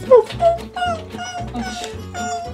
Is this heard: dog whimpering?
yes